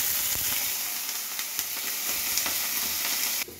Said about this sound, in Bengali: কড়াইতে লঙ্কা আদা কুচি দেওয়ার পর আমি সবজি দিলাম, ক্যাপসিকাম, গাজর